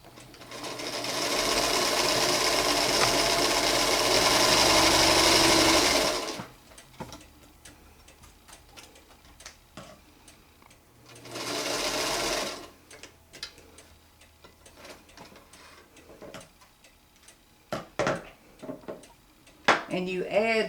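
A small sewing machine runs in steady bursts while stitching log cabin quilt rows, first for about six seconds, then in a shorter second burst, with scattered ticks and handling clicks between runs.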